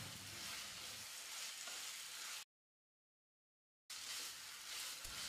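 Cauliflower sizzles and crackles steadily in a hot pan, broken by a brief stretch of total silence before the frying resumes.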